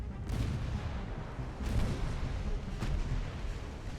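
Naval ship guns firing in the Ultimate Admiral: Dreadnoughts naval combat game, a steady rumbling barrage with several heavy booms rising out of a continuous low roar, loud and close.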